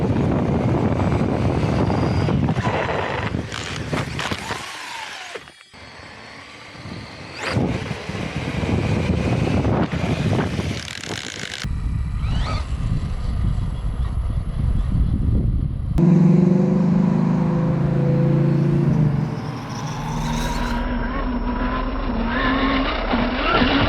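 A Losi Promoto MX radio-controlled motorcycle runs in wheelie mode, its electric motor whining loudly and shifting pitch over several passes, near and continuous with abrupt changes in tone.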